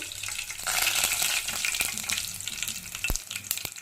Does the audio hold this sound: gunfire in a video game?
no